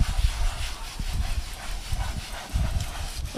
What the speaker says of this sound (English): I just take this right here and I just rub it ever so lightly, just like so.